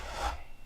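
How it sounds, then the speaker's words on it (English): A brief, close rasping stroke of hand sanding on wood, a single soft scrape that swells and fades in under a second. "I want to keep sanding until that flat's gone."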